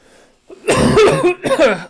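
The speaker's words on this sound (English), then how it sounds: "I'm going to cough again." A loud, close cough in two or three harsh bursts, followed by a shorter second fit, with no talking.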